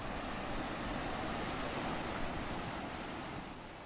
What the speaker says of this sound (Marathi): पाऊस पडत असल्यानं गड नदी सध्या पूर्ण क्षमतेनं वाहतेय